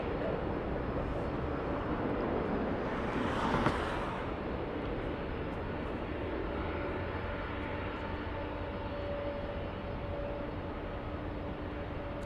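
A Japan Airlines flight 6 airliner at LAX, heard as a steady, fairly faint jet roar that swells briefly near the middle before settling back into a constant distant drone, with no talking.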